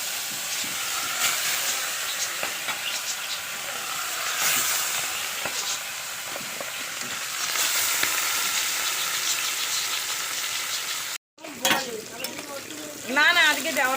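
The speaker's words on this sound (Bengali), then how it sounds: "কড়ার মধ্যে হচ্ছে কালো জিরা ফোড়ন দিয়ে দিয়েছি" Black cumin seeds sizzling in hot oil in a wok, a steady close frying hiss that runs for most of the time, broken by a brief gap near the end and followed by clattering kitchen sounds.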